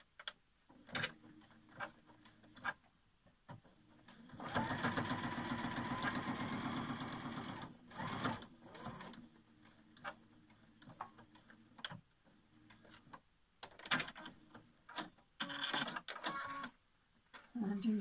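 A sewing machine stitches down a folded edge of a fabric mask in a sustained whir lasting a few seconds, with shorter bursts of stitching around it and someone talking in between.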